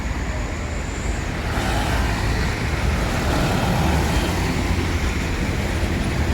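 A Jetbus 3 intercity bus rolls past on an Indonesian road, a broad rumbling roar that swells after the first second and holds steady amid general traffic noise.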